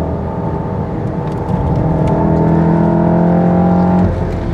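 A Stage 3 Golf R drones loudly on track, its steady engine note holding as power is cut in limp mode, then dropping in pitch near the end.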